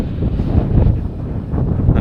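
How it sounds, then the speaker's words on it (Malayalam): A strong desert sandstorm wind gusts against the microphone in a loud, continuous rumble during a desert safari, with no talking over it. "നല്ല കാറ്റുണ്ട്, മണൽക്കാറ്റ്"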